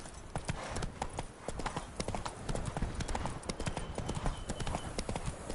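A horse gallops in The Witcher 3, its hooves beating a fast, continuous clip-clop rhythm throughout, close and steady.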